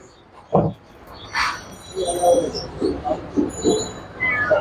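A few short meows from a two-month-old white triple-coat kitten, the first one loud and close, followed by a series of soft, rhythmic mewing sounds.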